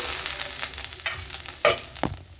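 Potatoes frying in a pan for egg chowmein, a steady soft sizzle with a few sharper scraping stirs near the end, close and fairly quiet.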